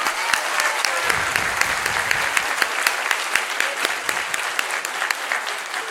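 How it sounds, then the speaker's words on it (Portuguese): An audience at an education seminar gives a steady round of applause for a teacher, dense continuous clapping with sharp individual claps standing out, largely alone with little talk. "eu queria pedir uma salva de palmas para a professora Ellen Batista da Silva"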